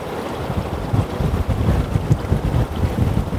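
A portable swamp cooler fan runs at low RPM, producing a steady, fairly quiet whooshing airflow with gentle fluttering and no voices over it.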